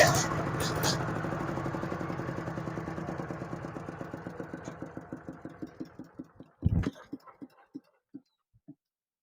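Thai rot e-taen farm vehicle with an ET110 engine, shown in good condition, idling with a steady rapid chug that thins out and ends in a few loud, spaced knocks as it shuts down.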